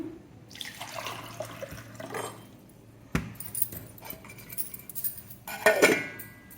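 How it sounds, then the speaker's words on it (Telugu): Water trickles and splashes into a clay pot amid clinks and knocks of handling, ending with a brighter gurgling pour. "మట్టి పాత్రలో వాటర్ తీసుకుంటున్నాను నేను."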